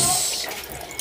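Running water rinsing split tamban fish, a steady close splashing and trickling that fills the whole moment without pause.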